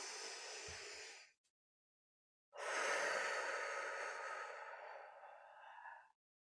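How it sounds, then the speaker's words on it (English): A deep breath drawn in through the nose, heard as a long airy rush, then a brief silence and a second, longer breath that fades slowly, close and quiet, with no talking. "take a nice deep inhale through your nose"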